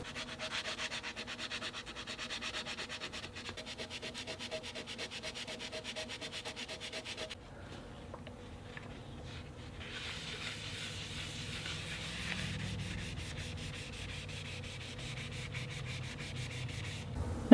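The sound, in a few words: sanding oil finish off a guitar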